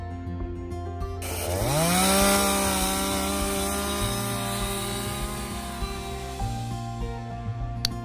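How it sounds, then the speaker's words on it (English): A chainsaw revs up to a high whine and runs steadily, its pitch dipping and rising as it bites into tamarisk trees in a creek bed, loud and nearby. "long days using chainsaws, loppers to cut and pull invasive plants out of the creek bed"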